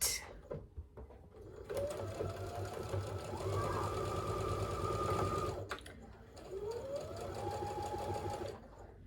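Sewing machine stitching seams on a fabric project, running steadily at close range in two long bursts with a brief pause between, its motor whine rising and settling as the speed changes.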